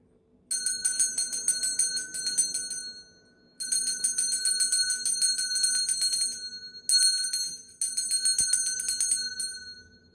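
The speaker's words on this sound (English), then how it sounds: "I'm going to ring a bell." A bell is struck three times to cleanse a space. Each ring is bright and sustained, then fades slowly before the next strike. It sounds clear and close, with nothing else heard.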